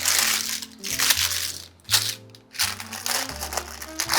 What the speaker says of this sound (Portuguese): Tiro o papel.